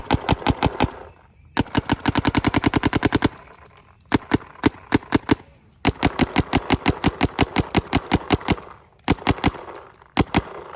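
Planet Eclipse Gtek 180R and CS3 paintball markers fire in rapid bursts, sharp evenly spaced pops in fast strings separated by short pauses, loud and close.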